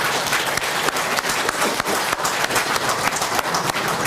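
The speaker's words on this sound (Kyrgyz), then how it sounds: "дагы бир салтанаттуу түрдө кол чаап коелук" A conference audience at a book launch breaks into loud, dense applause, many hands clapping steadily from start to finish in a crowded hall.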